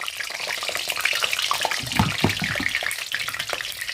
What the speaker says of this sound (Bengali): এবার প্রথমে আমি আলুটা ভেজে নেব